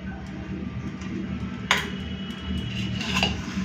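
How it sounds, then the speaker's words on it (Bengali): Rice is served onto a plate with metal utensils: two sharp clinks stand out against quiet kitchen background noise, with no talking. "তো ভাত বেড়ে নিলাম"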